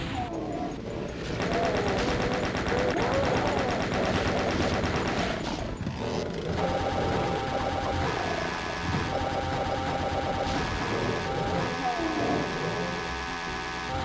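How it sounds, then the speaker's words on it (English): Gunfire and explosive blasts from the 1993 Doom video game, including a rocket launcher firing, pile up in dense, loud, continuous bursts over game music and effects for the whole stretch, with a brief lull near the middle. "I'll just use the rocket launcher"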